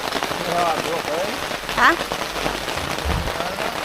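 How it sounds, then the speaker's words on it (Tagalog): Heavy rain pours steadily onto a campsite, a dense constant hiss that fills the whole clip while a person briefly speaks over it. "Lumalakas ang ulan."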